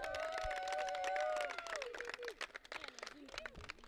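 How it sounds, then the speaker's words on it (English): Quiet, scattered applause with some whoops and cheers at a women's cricket match ceremony between Kenya and Mozambique; the clapping thins into irregular claps toward the end. "Round of applause."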